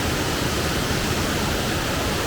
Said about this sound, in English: look into a waterfall.